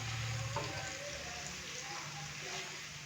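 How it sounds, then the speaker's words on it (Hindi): Garlic paste frying in hot oil makes a dense, even sizzle close by, a steady crackling hiss with small pops, with a faint low hum underneath. "लहसुन के पेस्ट को हल्का सा हम फ्राई करेंगे।"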